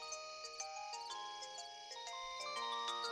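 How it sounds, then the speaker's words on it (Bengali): A jingling, melodic cartoon phone ringtone in a late-night scene, a run of bright stepping electronic tones that holds steady, fairly quiet with no voices over it. "এত রাতে কে ফোন করে"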